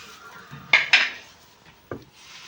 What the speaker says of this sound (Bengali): পালং শাকটা কেটে নেবো আমি